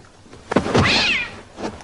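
A cat gives a single clear meow, a rising then falling wail near the middle, with a short soft sound just after it, close by in a quiet indoor room.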